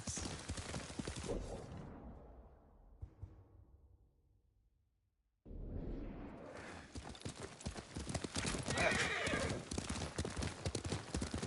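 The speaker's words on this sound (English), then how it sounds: "Lord Sakai taught me to ride a horse" Horse hooves clop in a steady galloping rhythm in the video game Ghost of Tsushima, briefly fading out before resuming louder, with a whinny and some faint speech mixed in.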